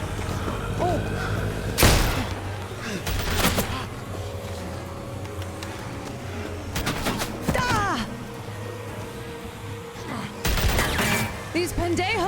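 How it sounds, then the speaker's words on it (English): Video game gunfire comes in several sharp bursts of rapid shots, loud and close, separated by quieter stretches with thuds and scattered effects, with a voice speaking briefly in between. "These pendejos are shooting at me!"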